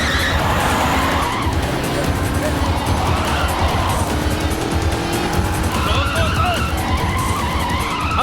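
A car turns sharply during a chase, tires squealing and skidding over a loud engine roar for several seconds, with shouting voices in the mix.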